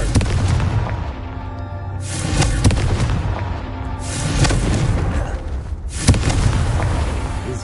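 The Confringo fire spell in Hogwarts Legacy sets off a string of loud booming explosions, three or four heavy bursts spaced a couple of seconds apart over a rumbling background.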